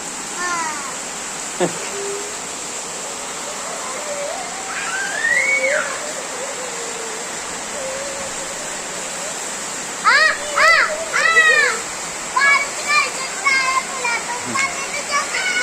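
A steady wash of heavy summer rain falls in Nilambur, Kerala, its continuous roar running under the whole stretch as children talk and shout excitedly in bursts toward the end.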